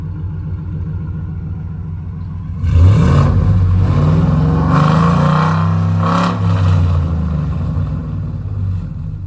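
A 2026 Ford F-150 fitted with a Stainless Works true dual exhaust starts idling low, then revs sharply with a loud, deep roar that holds, dips and swells again before settling back to a rumbling idle.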